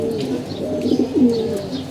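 Pigeons coo in low, throaty rolling phrases, close by and fairly loud, with a few faint chirps higher up.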